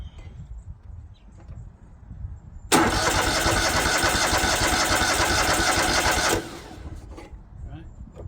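A rusty John Deere L130 riding lawn mower engine cranks and catches, a loud steady mechanical roar for about four seconds before cutting back, with a person speaking quietly nearby before and after.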